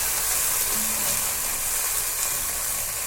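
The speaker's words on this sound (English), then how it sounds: "we'll just go in some shifts and brown as much meat as we can at a time without overcrowding the pan" Beef browning in a pan for homemade beef stew gives a steady, loud broadband sizzle that holds evenly throughout with no talk over it.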